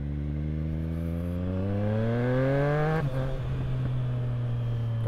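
A Triumph Street Triple fitted with a Yoshimura slip-on exhaust revs up steadily, its pitch climbing for about three seconds before the throttle snaps shut, then a lower idle follows with faint crackles, loud and close throughout.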